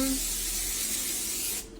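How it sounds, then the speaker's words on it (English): A can of cooking spray hisses onto a pan held over a sink in one continuous, close burst lasting about a second and a half before cutting off abruptly. "I'm going to spray my pan."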